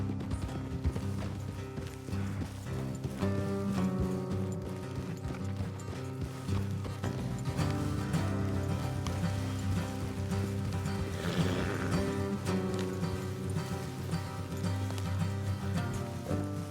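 Horses' hooves clip-clop steadily in the Red Dead Redemption 2 video game, a continuous rhythmic trotting under a dense layer of game music and ambience, fairly faint throughout.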